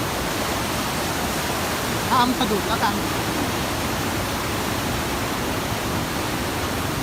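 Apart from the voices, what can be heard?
strong fast-flowing water of a forest stream or waterfall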